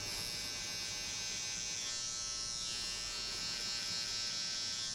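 An electric hair trimmer buzzes steadily and loudly up close while cutting a fade near the zero guard setting, a continuous high whine with no pauses and no talk.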